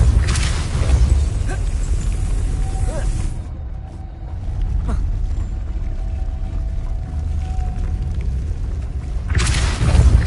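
Depulso spell effect in the Hogwarts Legacy video game, a deep booming whoosh that surges loudly at the start, drops to a rumbling hum, then swells again at the end.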